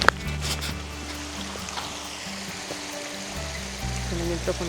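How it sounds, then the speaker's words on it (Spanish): A forest stream near Big Sur, California babbles and trickles steadily up close, a continuous wash of flowing water with faint knocks and rustles mixed in. "Acá hay un arroyo, no sé si se escucha."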